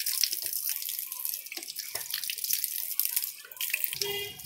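Chickpeas are rinsed under a running kitchen tap, with close splashing water that gurgles and shifts as they are handled, then a brief change to a steadier stream at the end.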